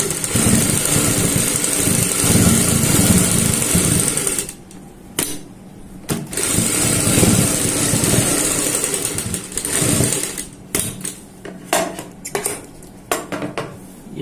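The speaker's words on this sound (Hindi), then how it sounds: "अब हम यहाँ पे इनके ऊपर सिलाई लगा लेते हैं ऐसे।" Sewing machine running steadily while stitching along a garment neckline, loud and continuous with brief pauses and a few short stop-start bursts toward the end; no voices.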